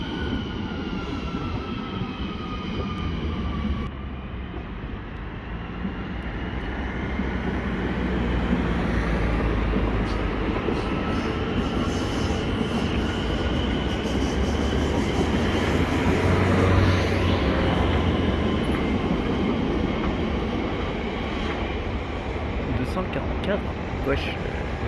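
A train passes Val d'Argenteuil station, a sustained rumbling roll with a metallic ring that swells in the middle and eases off, with some faint voices along the way.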